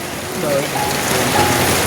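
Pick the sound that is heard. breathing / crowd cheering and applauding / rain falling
rain falling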